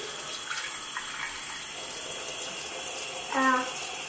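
Tap water runs steadily into a container, a continuous close rushing flow with a brief louder clunk near the end.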